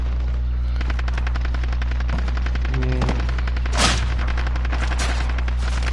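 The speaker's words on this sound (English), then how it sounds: "Oh, someone shooting at us?" Sustained automatic gunfire rattles through a console video game match, a fast continuous stream of shots over a steady low hum, with a brief louder burst near the end.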